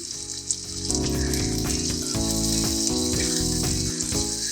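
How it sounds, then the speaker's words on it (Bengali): Boiled Bombay duck fish drops into hot masala in a pan, setting off a loud, continuous sizzle and spatter with clattering pan sounds, close and steady with no talking. "এবার আমি সেদ্ধ করে রাখা মাছটা দিয়ে দিচ্ছি"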